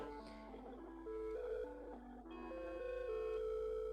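An office telephone sounds after dialing internal extension 803, giving a steady electronic melodic ring tone with shifting pitched notes over a constant low hum.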